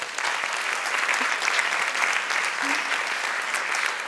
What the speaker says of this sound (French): notre caméraman ce soir, Igor, que je vous demande d'applaudir